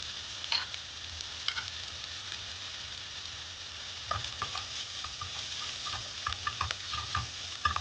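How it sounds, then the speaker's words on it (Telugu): Chicken soup ingredients frying on high flame, a steady sizzle with scattered ticks and scrapes of stirring, close and moderately loud with no voices. "బాగా కలుపుకొని హై ఫ్లేమ్ మీదనే వేయించుకోవాలండి"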